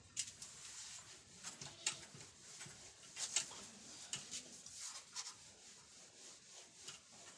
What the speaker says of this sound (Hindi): ठीक है भाई, इसको रब कर रहे हैं